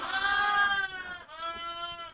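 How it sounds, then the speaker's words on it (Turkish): Sheep and goats in a barn let out two loud, close bleats, a long wavering cry followed by a shorter one, with no talking. "Burada duruyor koyunlar. Koyun yeri burası."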